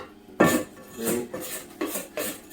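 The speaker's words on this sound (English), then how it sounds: "scrape the sides, get the flour off the sides." A plastic bench scraper scrapes flour from the sides of a mixing bowl while making baguette dough, giving several short, close scraping and rubbing strokes in an uneven rhythm, with no talking.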